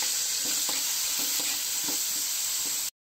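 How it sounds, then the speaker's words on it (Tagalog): Garlic, onion and sweet potato sauté in a pan with a constant bright sizzle, while rhythmic stirring strokes knock and scrape every half second, close up and without talk. "gisayin lang natin mabuti"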